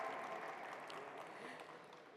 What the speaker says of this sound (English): let's welcome her with a huge round of applause, everyone